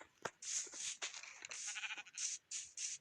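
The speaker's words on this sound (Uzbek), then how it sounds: "Qo'yam bor." Sheep bleating, a series of short, faint, fairly distant bleats in an irregular rhythm over quiet background.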